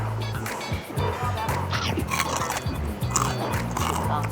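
Crispy pork rinds being bitten and chewed with a jaew chili dip, with repeated crunchy bites and wet chewing close to the mic, and faint talk in the background.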